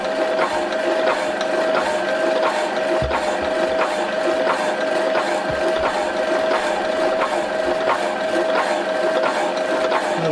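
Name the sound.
machine running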